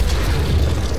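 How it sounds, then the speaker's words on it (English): Rocket explosions in the Doom video game, a dense low rumbling boom that fills the whole short moment, loud and close with no talk over it. "Burning through a lot of rockets to take him out."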